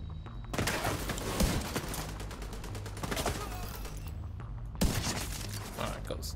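Continuous minigun fire in the shooter video game Tom Clancy's The Division 2, a dense rattling stream with a brief gap and a sharp impact, loud and up close, with voices talking over it.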